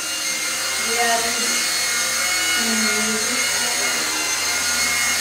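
Beginner RC helicopter flown indoors, its steady high-pitched electric rotor whine and buzz filling the room throughout, with people talking over it.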